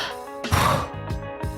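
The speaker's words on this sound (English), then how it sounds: "Try focusing on a deeper inhale and a faster, more powerful exhale." A runner demonstrates breathing with one sharp, forceful exhale, a brief breathy burst close to the mic, followed by two quicker, softer puffs of breath.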